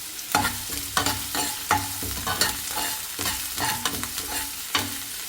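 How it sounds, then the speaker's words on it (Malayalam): Sliced onion frying in hot oil in a pan, a bright continuous sizzle with rhythmic stirring scrapes and clanks repeating about every second, close and loud with no talk. "പാൻ അടുപ്പത്ത് വെച്ചിട്ട് ഓയിൽ ചൂടായി വന്നിട്ടുണ്ട്. കുറച്ച് സവാള കൊടുക്കാം."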